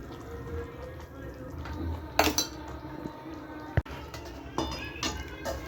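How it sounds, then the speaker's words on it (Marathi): Roasted sesame seeds and crushed peanuts are stirred into hot jaggery syrup in a pot, giving faint scraping and a few sharp metallic clinks of a spoon against the vessel, quiet and close. "हे असं छान मिक्स करून घ्या."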